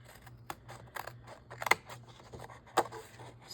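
Scissors snipping through paper for a junk journal, a quick irregular series of close, crisp cuts with a few louder snaps, no talking.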